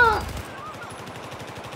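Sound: gunfire in the video game Battlefield 4 zombie mode

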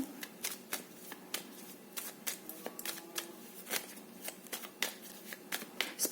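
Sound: shuffling tarot cards

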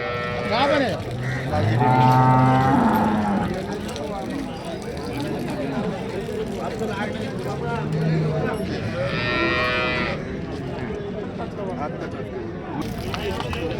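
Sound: cow mooing at cattle market

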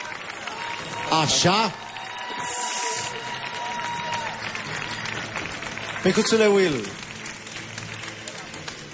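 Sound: audience applause after a salsa dance

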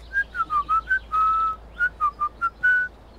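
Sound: whistling

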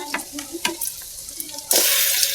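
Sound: frying garlic and onions in oil

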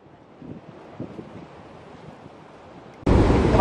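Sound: sea waves splashing up at Dinh Cậu, Phú Quốc

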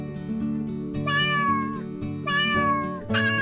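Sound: cat meowing in a cartoon

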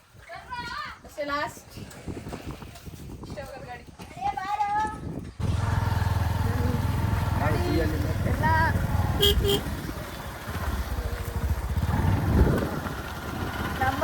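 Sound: vehicle driving up

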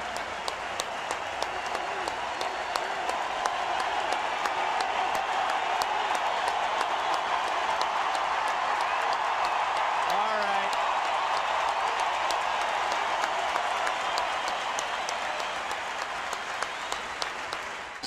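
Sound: baseball stadium crowd giving standing ovation

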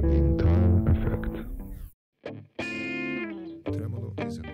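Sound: modulation effect with tremolo, auto-panning and overdrive distortion

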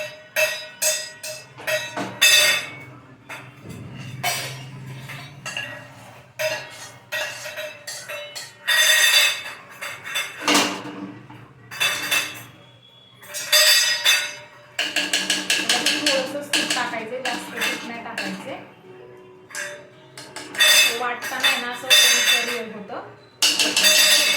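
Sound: makhana removed, cashews and almonds roasted in a pan

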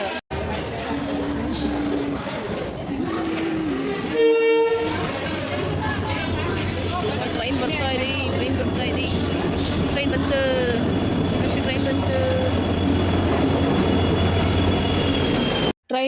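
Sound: passing train

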